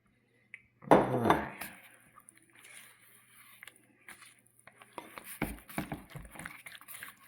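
A utensil stirs sugar, cinnamon, cloves, ginger and salt for pumpkin pie in a bowl, giving a sharp clatter at the start and then scattered clinks and scrapes against the bowl, close and fairly quiet.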